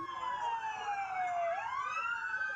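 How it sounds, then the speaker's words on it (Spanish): Wailing police siren of Chile's PDI investigative police, sweeping down and back up in a steady, loud continuous tone at a funeral procession, heard alone without talk. "la inconfundible sirena de la PDI"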